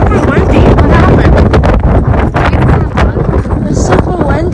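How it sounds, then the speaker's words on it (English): Strong wind buffets the microphone at Hawaii Volcanoes National Park on the Big Island, heavy roaring gusts that surge and dip close and loud, with faint voices mixed in. "It's super windy."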